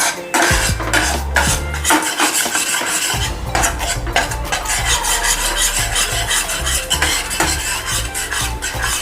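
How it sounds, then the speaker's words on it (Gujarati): A spoon scrapes and stirs gram flour in a pan as it roasts for besan halwa, a steady rasping and rubbing with faint sizzle, close and continuous with no talk. "આને આપણે એકદમ ગોલ્ડન બ્રાઉન થાય ત્યાં સુધી આપણે શેકવાનું છે."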